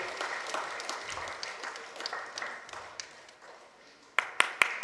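A health workshop audience applauds in a diminishing patter of hands that thins out, followed by a few sharp, isolated claps close to the microphone at the end.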